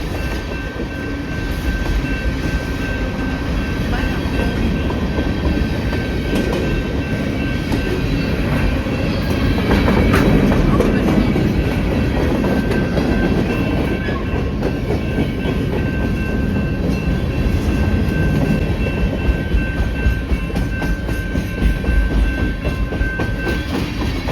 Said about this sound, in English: And look there, another train coming.